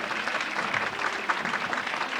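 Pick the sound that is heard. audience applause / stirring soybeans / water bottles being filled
audience applause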